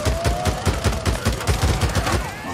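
Rapid gunshots fired in the zombie game Days Gone, a steady, loud, evenly spaced volley of about a dozen cracks with no talking.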